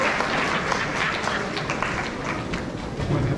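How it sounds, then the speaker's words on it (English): Graduates at a 2022 graduation ceremony give a sustained round of applause, a dense, steady wash of clapping from a large group filling the whole stretch with no pauses. "So graduates, give them a round of applause."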